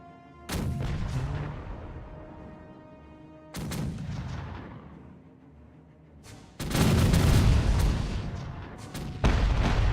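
Ship cannons fire broadsides in the pirate video game Caribbean Legend: three loud booming volleys, each a sharp blast that rumbles and decays over a few seconds, with a fourth volley starting at the end.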